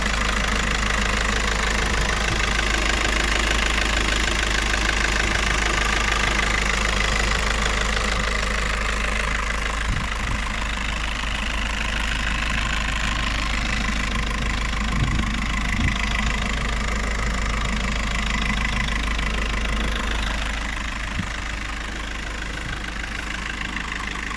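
An Audi A3 1.9 TDI diesel engine idles steadily for the whole stretch, a constant low rumble with a faint ticking knock, close up and unchanging, no voices.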